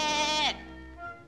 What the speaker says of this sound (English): Bo Peep sheep